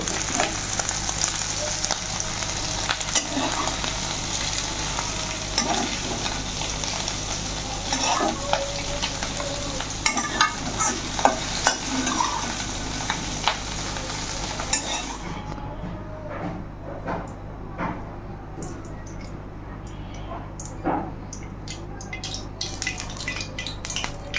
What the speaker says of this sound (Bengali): চিংড়ি শুটকি ভাজা হয়ে গেছে, তখন আমরা উঠিয়ে নেব।